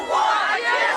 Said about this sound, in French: débarrassons-nous de ce gouvernement, hurle la foule